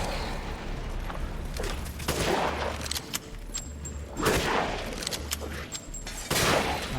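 In the horror shooter Resident Evil Village, repeated gunfire in Mercenaries mode on PS5 comes as loud, punchy bursts of shots with booming impacts at an explosive, set against a rumbling in-game background.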